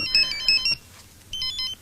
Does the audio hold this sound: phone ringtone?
yes